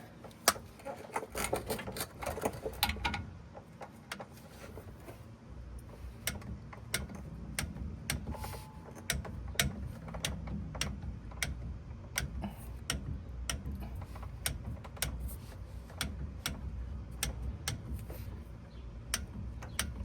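A torque wrench ratchets as differential cover bolts are tightened on an old GMC truck, a long run of quiet, quick clicks and ticks with brief pauses, close by in a garage with low background hum.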